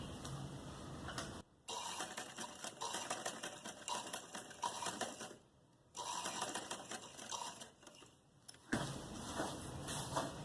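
A sewing machine stitches a bell sleeve in steady, fast whirring runs, stopping briefly twice and then starting again, close and clear with no talking.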